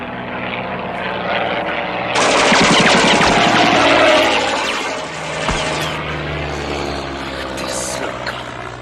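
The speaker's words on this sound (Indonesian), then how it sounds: "pesawat milik Nazi Jerman yang melintas tersebut hanya memberikan gertakan saja" A German Nazi-era aircraft passes overhead, its propeller engine droning loud and steady and swelling as it nears before easing slightly while it moves on.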